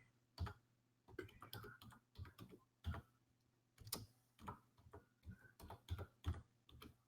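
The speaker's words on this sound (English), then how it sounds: "Let's type it in." Computer keyboard typing with irregular bursts of clicks and pauses, fairly close and clear, under a steady low hum.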